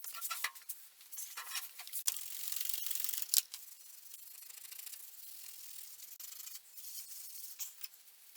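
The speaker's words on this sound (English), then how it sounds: "So we're just going to give it a good scrubbing" An old Singer sewing machine being scrubbed clean of dust and dirt, close and faint, with dry scratchy brushing strokes, small mechanical clicks and rattles, and a sharper tick partway through.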